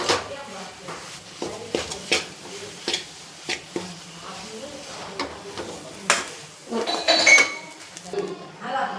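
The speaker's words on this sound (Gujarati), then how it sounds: "घी एड करी अने पाछुं आपणे एने सरस रीते आम मिक्स करी देवानुं छे।" Ghee being stirred into a banana sweet mixture in a pan, with repeated scraping and clinking of a spoon against the metal pan and faint sizzling, while someone talks over it.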